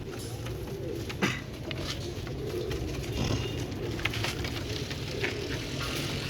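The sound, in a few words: pigeons cooing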